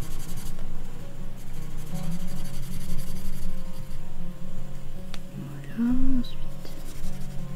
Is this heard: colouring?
yes